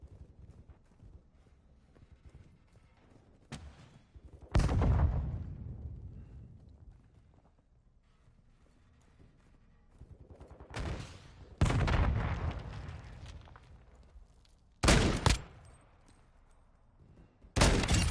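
Gunfire in Call of Duty DMZ: a few loud, sharp shots and short bursts stand out against quieter stretches, with a rolling decay after each, some shots near and others more distant.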